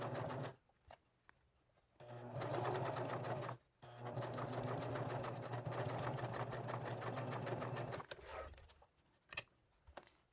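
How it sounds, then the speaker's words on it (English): A sewing machine stitches a channel through collaged fabric, running in long steady buzzing bursts with a rapid mechanical chatter, stopping briefly between runs, close and loud in a quiet room. "Okay, now we're going to start and sew in this little channel right here all the way down."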